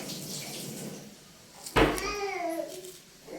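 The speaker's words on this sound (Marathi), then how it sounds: "ह्या सोडलेल्या केळी पाण्यात टाकायचे" Peeled bananas drop into water with a single soft splash, followed by a short murmuring voice in a quiet room.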